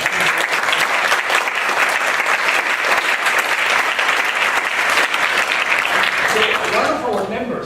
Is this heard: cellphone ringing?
no